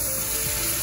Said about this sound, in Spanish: vamos a agarrar caldo del que estamos cociendo el pollo